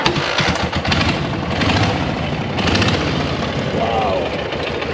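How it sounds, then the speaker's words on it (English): A vintage one-kick motorcycle, number seven of a thousand built, kicks over and settles into a steady, close, loud idle with a thumping mid-range engine note that runs throughout. "So go ahead and see if we can get it to make some noise. It's a 1-kick bike."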